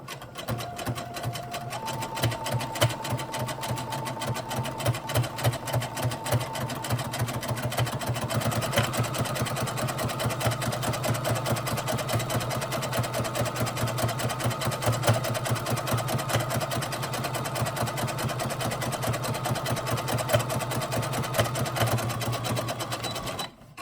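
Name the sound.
sewing machine top stitching a bra cup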